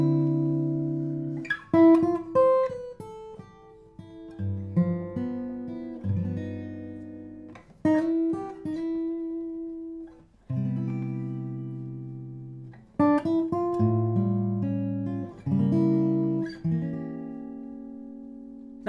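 Jazz guitar chords ring out slowly one at a time, each voicing sustained for a beat or two before the next, forming an unhurried progression played alone and close.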